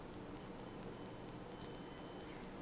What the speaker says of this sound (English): As you might be able to hear via the meter beeping.